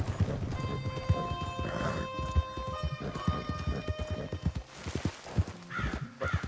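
Horse hooves clip-clopping in the Western video game Red Dead Redemption, a steady close rhythm under sustained musical tones, with a brief whinny.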